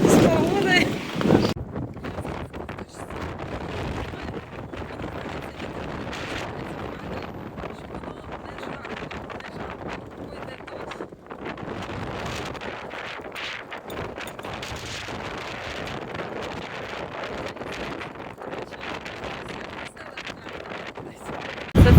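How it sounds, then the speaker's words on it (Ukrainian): Steady roaring wind with rain buffets the microphone for the whole stretch, rising in heavy gusts with a rumbling low end and no letup. "Вітер, дощ, пориви страшні."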